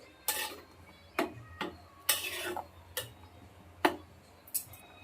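A spoon stirring washed, drained sago in a cooking pot, giving sharp metallic clinks and scrapes against the pot at irregular intervals, about seven distinct knocks, close by with quiet gaps between.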